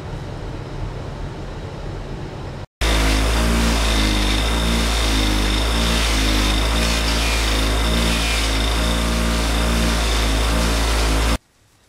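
A loud power polisher whirs steadily up close for several seconds with a rhythmic grinding pulse while polishing Yamaha FZR motorcycle parts, then cuts off abruptly.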